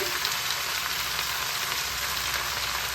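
Washed red amaranth greens, 500 grams, go into hot oil with browned garlic and sizzle loudly and steadily in the pan, a dense continuous hiss with no voices.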